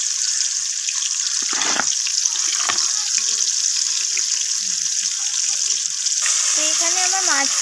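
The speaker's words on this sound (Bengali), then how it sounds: "এরপর আমি বাকি মাছগুলোকেও এইভাবে ভেজে নেব।" Pieces of rohu fish fry in hot oil in a home kitchen, a bright continuous sizzle and crackle that holds steady for several seconds, close up, with a few faint clinks of utensils.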